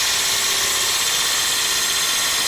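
A wood lathe runs steadily as a gouge turns an ogee-shaped bowl, a continuous loud hissing whir with no pauses or voices.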